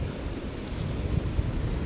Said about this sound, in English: Blowy, but still a reasonable temperature.